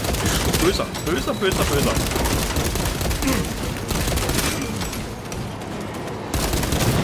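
Sustained heavy gunfire in Warhammer 40k Space Marine 2, relentless loud bursts and booms packed close together with short gaps, while someone speaks over the battle.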